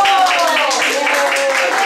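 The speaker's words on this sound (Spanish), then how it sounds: "Una, dos y tres. ¡Aplaudimos fuerte!" A group of schoolchildren claps hard and fast at a school music event, rhythmic clapping layered with excited young voices throughout the short burst.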